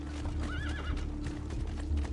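A horse in Assassin's Creed 2 gives a wavering whinny near the start, with clip-clopping hooves and other game sounds continuing around it, no speech.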